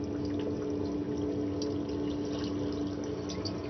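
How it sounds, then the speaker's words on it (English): Silver nitrate solution being poured down a sink and flushed with plenty of running water, a steady continuous rushing and splashing of liquid throughout, fairly loud and close with no talking. "pouring it down the sink and flushing it with plenty of water"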